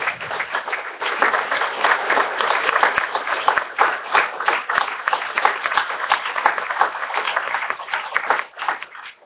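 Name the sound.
audience applause for BigBlueButton contributors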